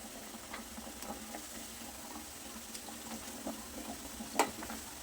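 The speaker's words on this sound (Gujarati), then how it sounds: "ધીમે ધીમે કરી ચમચીની મદદથી બધા મુઠિયાને બીજી સાઈડ ફેરવી લઈએ, જેથી આપણે બધી જ સાઈડથી સરસ મુઠિયા ફ્રાય થઈ જાય" Muthiya dumplings of coarse wheat flour frying in a pan, a soft steady sizzle with faint scrapes and taps as a spoon turns them, one sharper clink near the end; quiet and close, no talking.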